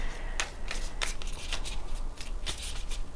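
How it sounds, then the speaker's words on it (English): Tarot cards shuffled by hand, a steady riffling with several crisp snaps of cards being pulled, close and fairly quiet, with no talking. "I want to pull a few more cards"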